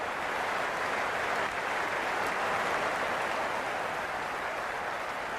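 Steady broadband roar of a stadium crowd applauding in the Cricket 26 video game, during a Lahore Qalandars versus Islamabad United match, dense and continuous without pause.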